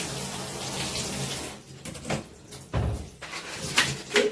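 Water runs and splashes into a bucket while a floor is being mopped, a steady wash for the first second and a half, then broken bursts of pouring and sloshing close by.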